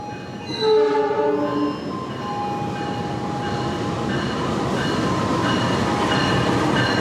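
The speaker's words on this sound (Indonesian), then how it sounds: "sudah masuk stasiun Karawang, kereta api Papandayan." The Papandayan passenger train rumbles into Karawang station close and loud, sounding its horn early on, then a steady heavy rolling roar continues as it passes.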